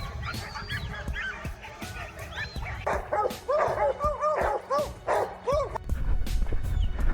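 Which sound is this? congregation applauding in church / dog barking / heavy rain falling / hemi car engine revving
dog barking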